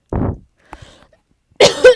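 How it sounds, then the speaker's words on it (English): A single sharp cough near the mic, then a brief pause with faint rustling and a second, harsher cough-like burst at the end. "I'm sorry, I had to cough."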